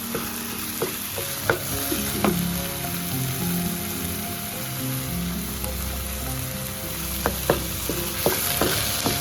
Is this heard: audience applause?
no